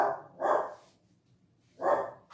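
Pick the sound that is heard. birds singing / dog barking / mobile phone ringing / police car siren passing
dog barking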